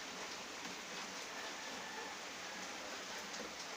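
Rain falls steadily during a typhoon in Albay, Bicol, a dense continuous hiss of downpour with no breaks and no voices.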